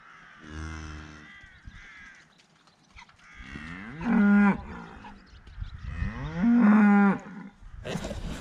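Several cows and calves moo, long low bellows starting nearby, with a couple of loud close calls toward the end and a bird calling faintly.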